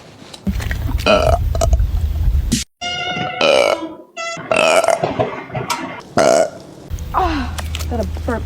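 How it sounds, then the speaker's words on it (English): A woman lets out several loud, close, drawn-out burps with strong croaky tones, separated by short gaps and mixed with vocal sounds. "Got a burp that was just chilling in my throat."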